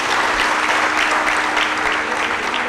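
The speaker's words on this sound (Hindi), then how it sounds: "तालियां बजाइए" Audience applause at a spiritual discourse by a revered swami, dense steady clapping from a large crowd that holds at an even, loud level throughout with no voices over it.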